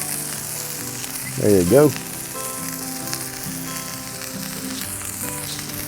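Burger buns toast on a Blackstone flat-top griddle with a steady soft sizzle throughout. Someone speaks briefly over it, and a low whine rises and falls near the start.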